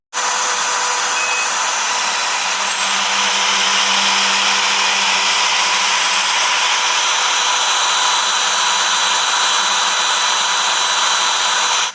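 CNC router cutting a wooden sign board, a loud, steady high-pitched whine that holds almost unchanged from start to finish.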